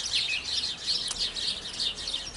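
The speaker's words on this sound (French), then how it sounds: "J'entends les oiseaux qui ne sont pas contents" Birds chirping as a sound effect in a told French fairy tale, a steady bright flutter of high tweets and trills throughout, with no speech over them.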